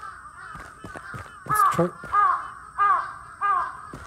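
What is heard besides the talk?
crows cawing in video game Akai Onna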